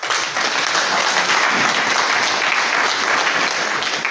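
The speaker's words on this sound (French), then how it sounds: "Applaudissez-vous." Audience applause at an excellence awards ceremony, a dense, steady wash of many hands clapping at full strength for the whole stretch, with no pauses.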